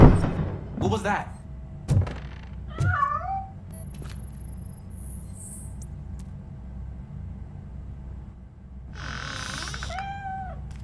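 A cat in the video game RoboCop: Rogue City meows a few times over a low rumble, with thumps and scrapes early on and a louder drawn-out meow near the end.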